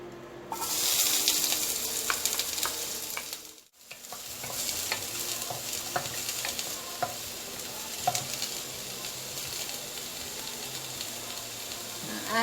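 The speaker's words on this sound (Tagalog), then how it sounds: "Lagay na natin ang ating onion." Onion frying in hot cooking oil for chicken tinola, a steady loud sizzle with scattered crackles and stirring clicks, briefly dipping near the start before sizzling on continuously.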